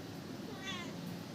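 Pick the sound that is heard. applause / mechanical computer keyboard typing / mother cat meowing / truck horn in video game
mother cat meowing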